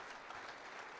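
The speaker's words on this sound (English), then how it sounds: "Round of applause, please." An audience applauds at a high school basketball awards show, a dense, steady round of clapping through the whole short moment.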